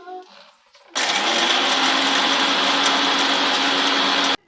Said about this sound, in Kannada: ನಾವು ಇವಾಗ ಹುರಿಕೊಂಡ ಮಸಾಲೆಗಳನ್ನು ಈಗ ಮಿಕ್ಸಿ ಜಾರಿಗೆ ಹಾಕ್ಕೊಂಡಿದ್ದೀನಿ.